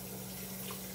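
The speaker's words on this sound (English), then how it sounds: "Turn that water off." Water runs steadily from a kitchen faucet during home cooking, a constant soft rushing hiss with no breaks, fairly faint and heard alone.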